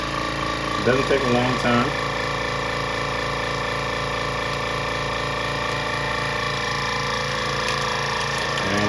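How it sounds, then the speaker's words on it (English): A vacuum sealer pulls the air out of a food bag before sealing it, giving a steady mechanical pump hum that runs throughout, while a person talks briefly near the start. "So I'm gonna hit vac seal and y'all gonna see this get sealed"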